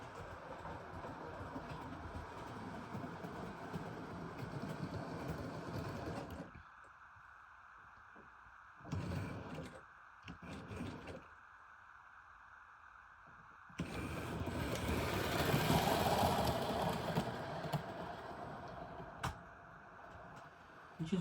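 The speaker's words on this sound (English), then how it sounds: "Just giving it a gentle nudge means you can push the training car around without you leaning over the railway" A model railway car is pushed by hand along the track, making a faint rolling rumble and clatter in bursts that stop and start with short quiet gaps between them.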